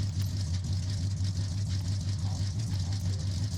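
A stock car engine in Forza Horizon 6 idles with a steady, low, even drone and a slight throbbing pulse, holding at a constant level throughout.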